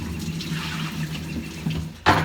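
Tap water runs steadily into a kitchen sink as food is rinsed under it, and a sharper splash or clatter comes right at the end.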